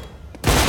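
A sudden loud burst of gunfire as both players shoot in a professional Counter-Strike match on the map Train, following a brief quieter stretch.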